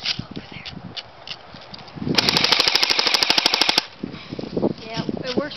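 A JG AK47 airsoft gun fires a rapid full-auto burst of about twenty evenly spaced shots lasting under two seconds. Quieter handling noises and some brief sounds come before and after the burst.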